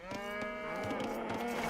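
Cattle in Age of Empires II give one long, drawn-out moo, close and steady, with faint game clicks underneath.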